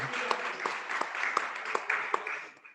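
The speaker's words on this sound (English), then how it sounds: "let's give them a round of applause for being our gold sponsor" A small crowd claps together in brisk, scattered applause, with sharper individual claps standing out before it fades at the end.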